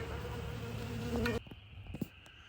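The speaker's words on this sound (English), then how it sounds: "those two bottom boxes are full of bees" Honeybees around hive boxes make a steady, faint buzzing drone that cuts off abruptly partway through, leaving a few soft taps and brief buzzes in near silence.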